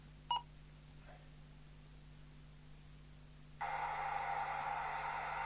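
A Lafayette Venus UK multi-norm CB radio starts scanning channels: a brief beep, then a faint quiet hiss, before loud static noise bursts in and holds steady as the scan stops on a noisy channel.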